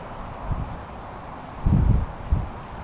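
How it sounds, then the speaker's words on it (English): Strong wind buffets and rustles around the microphone in uneven gusts at an outdoor fishing match, with a heavier blast in the middle of the clip. "extremely windy"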